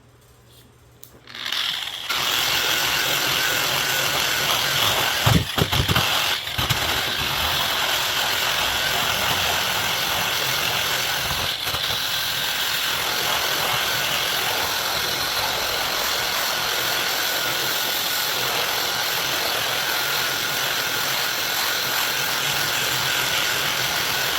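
A variable-speed grinder running at low speed on a beef hide being soft-tanned, starting up after a moment and then holding a loud, steady mechanical whir with a few brief bumps, close by and with no talk.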